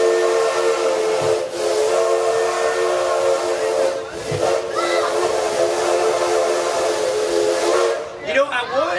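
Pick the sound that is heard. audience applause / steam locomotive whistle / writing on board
steam locomotive whistle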